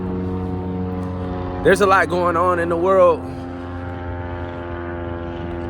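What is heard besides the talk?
airplane flying overhead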